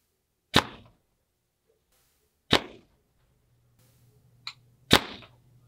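A Gearhead Disrupter Pro 24 compound bow fires a 429 grain arrow three times, each shot a sharp loud snap that decays quickly, separated by quiet pauses, with a fainter click between the second and third shots.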